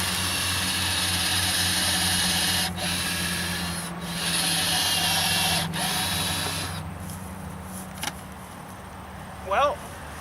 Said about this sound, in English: why is he drilling a hole?